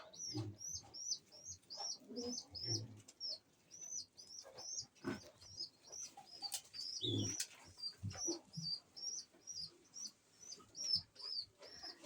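A pigeon chick begs its parent for food with a rapid series of thin, repeated high squeaks, steady and close, mixed with soft coos and brief wing flutters.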